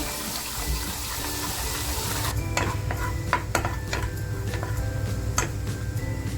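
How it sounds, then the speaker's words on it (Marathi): Masala frying in oil for Hyderabadi chicken masala: a steady sizzle with stirring and scraping, brightening after a few seconds into scattered crackles and sharp clicks over a continuous low hiss. "आता हे आपल्याला आहे ना तेल बाजूला होईपर्यंत छान फ्राय करून घ्यायचं"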